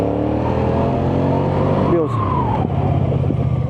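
A QJmotor RACE 550S sport motorcycle rides on an open road, its engine droning steadily close by, then easing off under braking as the sound dips midway and picks up again, with a rider talking over it.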